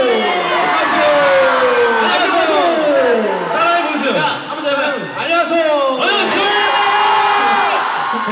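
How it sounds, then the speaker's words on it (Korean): Fans of the K-pop group MBLAQ at an event in Chile chant and shout together in a loud, sustained crowd roar, with rising and falling whoops and rhythmic yelled phrases filling the whole stretch. "이 친구들이 외치는 거야."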